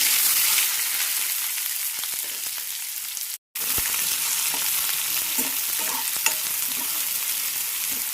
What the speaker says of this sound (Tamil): நல்லா ஃப்ரை பண்ணலாம்.